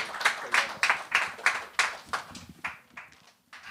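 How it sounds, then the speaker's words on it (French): An audience at a comedy gong show welcomes comedian Mélissa Cadieu with a modest round of applause: distinct, fairly close claps in an uneven rhythm that thin out and fade after about two and a half seconds. "On accueille, s'il vous plaît, un tonnerre d'applaudissements"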